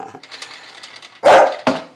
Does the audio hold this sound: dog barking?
yes